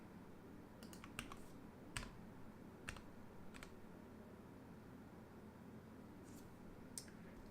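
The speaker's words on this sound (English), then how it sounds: "let's do a quick typing test." Scattered key presses on a KBD6X hotswap mechanical keyboard fitted with MDA keycaps, sparse and irregular clacks over a steady hum of background noise, with no talking.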